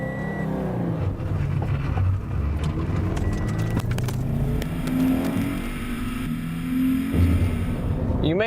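A 2013 Scion FR-S driving a twisty road on Palomar Mountain, its engine droning and revving steadily throughout with rising and falling pitch as it works through curves, loud and continuous with road noise.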